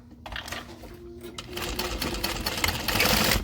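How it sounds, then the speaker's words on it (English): A sewing machine runs a line of stitching through fabric, starting after a moment of quiet and building into a fast, steady mechanical rattle that grows louder toward the end. "I'm going to do one more line of stitching"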